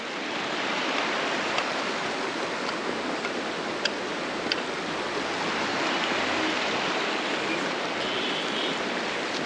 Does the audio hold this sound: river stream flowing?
yes